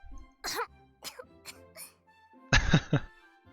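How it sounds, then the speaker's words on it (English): A woman coughs in a short fit after sipping a dark drink, several harsh close bursts followed by a louder cluster of coughs near the end. "After a small coughing fit"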